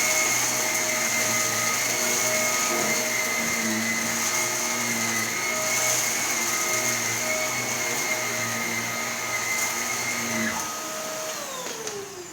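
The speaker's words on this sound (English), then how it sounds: "Take your vacuum cleaner and vacuum them up" A vacuum cleaner runs steadily as it sucks scented sprinkles off a carpet, a loud close motor whine with a constant pitch that drops slightly near the end as the motor slows.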